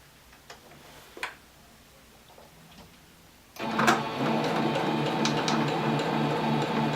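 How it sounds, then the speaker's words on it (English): A sewing machine stitches a fabric seam for a spring table runner, starting abruptly after a few quiet seconds with a few faint clicks, then running steadily and loudly with a rapid, even mechanical rhythm to the end. "And I'm going to go ahead and just sew along this seam."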